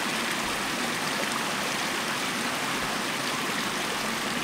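A small waterfall at a lagoon spillway pours continuously, a steady broadband rushing and splashing of water close by with no talking.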